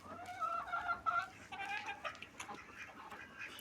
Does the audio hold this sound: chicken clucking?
yes